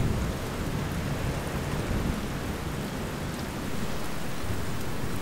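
Heavy rain pours down steadily during a thunderstorm, a dense and unbroken roar with deep rumbling thunder rolling underneath, loud and constant with no voices.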